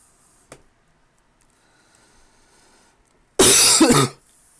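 A single loud, sharp sneeze bursts out close by after a long stretch of near silence, with a faint click heard earlier.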